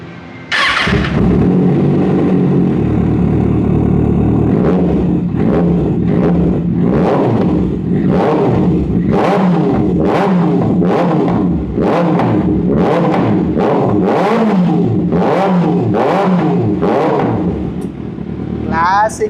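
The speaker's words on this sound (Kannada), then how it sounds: "so Z X six R so start ಮಾಡೋದು" A Kawasaki ZX-6R superbike engine starts and then revs repeatedly, with a rapid series of sharp throttle blips rising and falling, loud and close, while someone talks over it.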